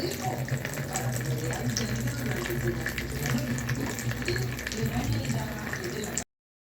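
Water streams steadily from a hole in the bottom of a container, a continuous splashing trickle that runs evenly before cutting off abruptly, with a voice speaking Spanish faintly underneath.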